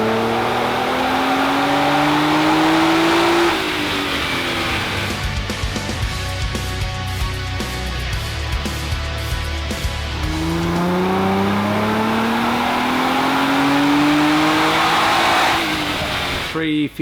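Tuned car on a high boost setting accelerating hard through the gears, engine revs climbing loudly, dropping at each shift and climbing again, with turbo whoosh, heard close from inside the car.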